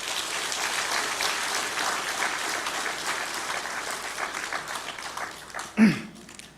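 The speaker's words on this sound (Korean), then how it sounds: "우리 박수 한번 부탁합시다" Church congregation applauding during a service honoring a retiring senior pastor, steady clapping for several seconds that thins out toward the end, followed by a brief sharp sound.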